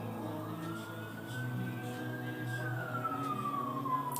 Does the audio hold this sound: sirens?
yes